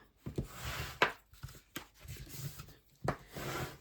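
Scored paper packaging being folded and burnished by hand, giving a series of soft rubbing and creasing strokes with a few sharper crisp presses, close and fairly quiet, with no talking.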